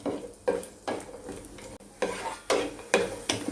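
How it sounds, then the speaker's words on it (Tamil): Cashew nuts roasting in ghee in a pan, heard as repeated stirring scrapes and clatters every half second or so over a soft, steady sizzle, close and moderately loud with no talking. "இப்போ முந்திரி பருப்பு நம்ம வறுத்துக்கலாம்."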